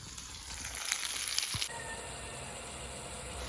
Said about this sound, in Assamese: মাছ ৰান্ধিবলৈ এইখিনি সৰিয়হ বিলাহী ভাজি আছোঁ